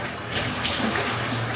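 Water sloshes and splashes steadily as water spinach is rinsed by hand in a basin, a brief close, continuous wet swishing with no voices.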